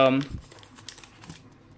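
Packaging crinkles and rustles during the unboxing of a Huawei MatePad Pro keyboard case, a brief burst of voice at the start followed by scattered close plastic and paper crackles.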